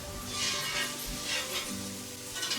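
Shaved beef sizzles and fries steadily in a pan for an Italian steak sandwich, a loud continuous hiss broken by a few clatters of stirring.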